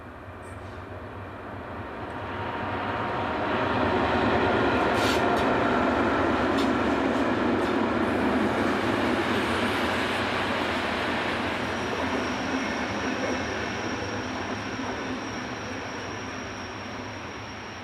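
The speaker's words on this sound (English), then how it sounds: "Arriving from the north is number 218475, seen in charge of the 1451 from Munchen to Füssen." Class 218 diesel locomotive hauling a passenger train on the Munich to Füssen line, arriving with a rising rumble of engine and wheels on rails that swells to a loud, sustained roar and then slowly fades, no talking.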